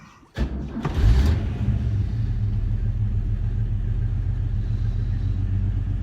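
A car door thuds, then the old engine of a 1965 Ford Falcon XP wagon turns over and settles into a steady, loud, rumbling idle with a low throbbing tone.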